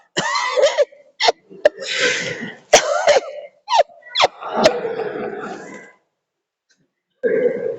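A string of irregular coughs and throat-clearing bursts, close and raspy, broken by short pauses and a longer silence before a final rough sound.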